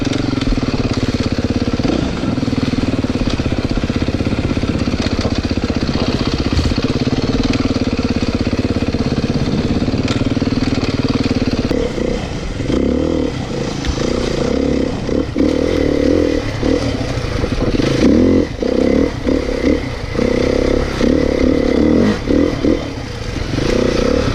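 A Beta RR big-bore four-stroke dirt bike engine runs steadily at close range, a loud, continuous throaty drone that roughens with throttle blips and clatter in its second half.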